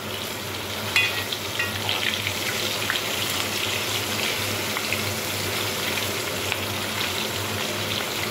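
Pieces of hilsa fish fry in hot oil with a continuous sizzle, broken by occasional sharper spatters and light clinks of a utensil. No one speaks.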